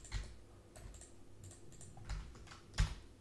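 A computer keyboard is tapped during 3D modelling work in Blender, with a few quiet, scattered keystrokes spaced irregularly across a few seconds in a calm room.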